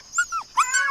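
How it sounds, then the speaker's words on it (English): A stray dog near a home gives two quick high-pitched yelping barks, close and fairly clear against a quiet background. "there have been 2 stray dogs near my home that bark incessantly every day"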